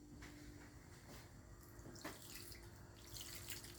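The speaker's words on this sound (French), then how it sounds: "Je vais rajouter encore un peu d'eau." Water runs steadily from a tap or jug onto dry couscous grains in a bowl, a soft continuous splashing trickle that stays close and fairly quiet, with no talking.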